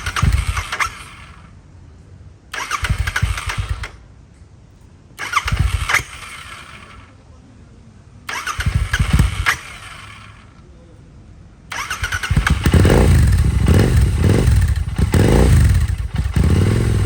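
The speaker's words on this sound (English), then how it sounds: "It took a few attempts to start the bike since this is a new battery" A Honda Interceptor motorcycle on a new battery cranks in several separate whirring bursts with pauses between, then finally catches and keeps running with a loud, lumpy idle up close.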